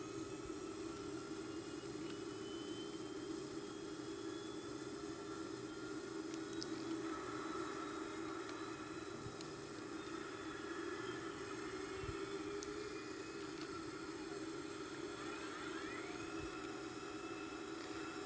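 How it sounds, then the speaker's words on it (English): The right-wing jet engine of a Boeing 767-300ER runs with a faint, steady broadband roar and a thin, sustained whine, unbroken and even for the whole stretch. "We let the fuel on, and the engine is running."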